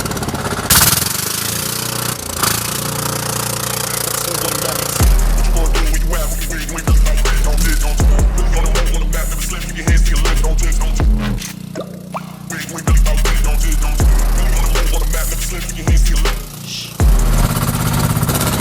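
A diesel engine in an Invalidka microcar runs loud and close with a rough, knocking idle, revving up in repeated bursts every couple of seconds as the vehicle is driven.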